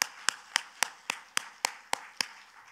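A congregation claps together in steady unison at a Korean church service, about nine sharp, evenly spaced claps ringing out alone with no talk over them.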